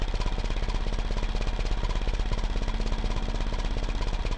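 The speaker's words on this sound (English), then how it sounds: "It sounds like this at idle." A sports car engine in BeamNG idles at a low 500 RPM with a steady, rapid lumpy chugging pulse like a jackhammer, moderately loud and alone, with no talk.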